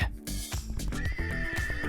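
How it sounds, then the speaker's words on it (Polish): A horse gives a loud, close whinny that rises and falls over about two seconds, with a faint clip-clop of hooves. "koń."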